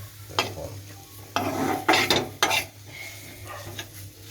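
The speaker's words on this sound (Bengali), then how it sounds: "এখন হচ্ছে পেঁয়াজ বেরেস্তা দিয়ে এটা মাখায় নিব" Ground black cumin paste is worked together with fried onions in a bowl, making a few close, wet scraping and knocking mixing strokes separated by short pauses.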